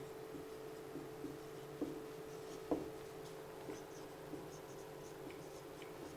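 Pen or chalk writing by hand, soft scratchy strokes with a few sharper taps, quiet and close in an otherwise still room under a faint steady hum.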